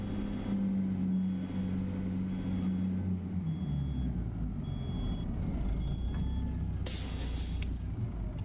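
A truck in a trucking video game: an air brake hisses and engine rumble drops away, then faint, evenly spaced reversing beeps sound under a steady motor drone, ending in a sharp burst of air.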